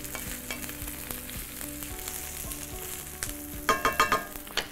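Onions caramelizing in a frying pan for a baked meatball dish give a steady close sizzle, with occasional stirring scrapes and a louder burst of crackling near the end.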